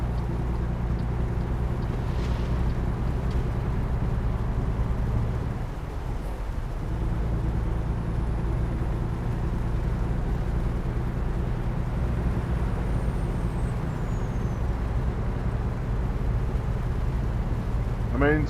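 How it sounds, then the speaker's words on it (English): Truck engine in the American Truck Simulator video game, a loud, steady low drone with strong harmonic hum running continuously from start to finish, dominating the whole mix. "the sound of this engine is overpowering the rest of the volumes"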